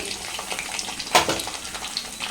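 Small onions (shallots) fry in hot oil in a clay pot, a steady close sizzle and crackle with one sharper burst of hissing partway through.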